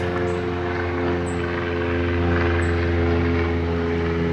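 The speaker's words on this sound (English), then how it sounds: "sometimes there's planes that fly over" Airplane passing overhead near a runway, a loud continuous engine drone with steady low humming tones that swells slightly and stays constant throughout, with no voices.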